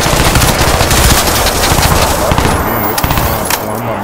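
Heavy weapon fire in the shooter game Crysis 2, a dense rapid burst of automatic shots that hammers on continuously for about four seconds, loud and close with no voices over it.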